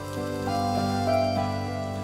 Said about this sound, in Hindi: बाहर बारिश इतनी तेज हो रही है